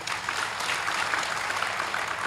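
An audience at a spiritual discourse clapping, with dense, steady applause from many hands lasting a couple of seconds at an even level and no talking.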